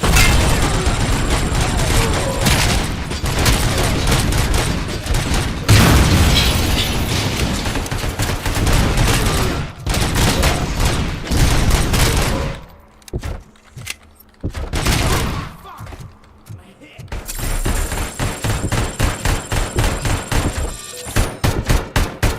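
Video game gunfire from a Robomuzhik stream, dense rapid bursts of shots and booms for long stretches, a brief lull of scattered mechanical noise, then the barrage resumes, loud and close.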